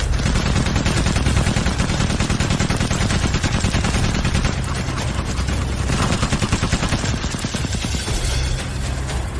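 Dense automatic gunfire roars through a dramatic standoff scene, a loud, rapid, continuous stream of shots with overlapping bursts and heavy low booms that barely let up.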